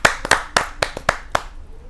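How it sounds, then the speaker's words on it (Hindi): A few people clap to welcome a poet onto the stage at a Hindi poetry gathering, giving about seven sharp, separate claps that sound close and thin out after a second and a half. "जोरदार तालियों के साथ श्री प्रमोद गुप्त जी का हार्दिक स्वागत है।"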